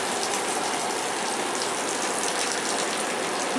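Water sprayed from a garden hose under a house roof hisses and splashes in a dense, continuous shower, with dripping mixed into the steady rush, close and fairly loud throughout.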